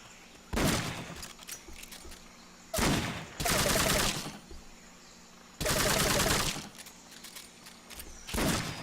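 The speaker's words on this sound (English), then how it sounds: "Silenced SMG." Silenced SMG fire in the video game Metal Gear Solid Peace Walker comes in several loud, sustained bursts, each a dense rattle lasting about a second, separated by quieter stretches of faint in-game ambience.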